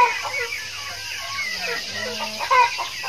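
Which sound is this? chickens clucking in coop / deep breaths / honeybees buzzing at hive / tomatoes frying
chickens clucking in coop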